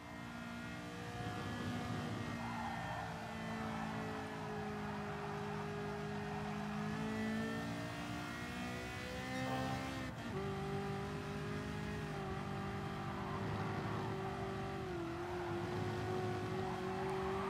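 Car engine racing in Gran Turismo Sport, a steady loud drone that rises and falls in pitch through gear shifts, with a brief sharp change near the middle and no talking.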